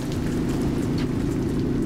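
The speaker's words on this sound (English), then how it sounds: "The rain isn't so bad." Steady rain pours down during a road trip through torrential downpours, a dense, even wash of close, loud hiss with no voices or gaps.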